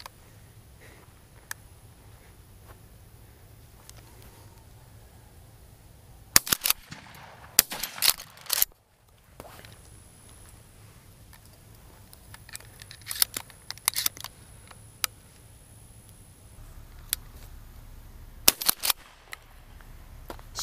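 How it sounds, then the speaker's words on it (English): Shotgun shots during a dove hunt ring out as a handful of sharp cracks, single and in quick pairs, spaced across a quiet outdoor backdrop. "First shot right there."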